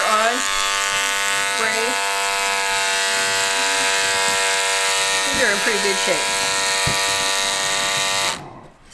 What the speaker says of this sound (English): I'm going to spray lube and see if you can hear a difference in sound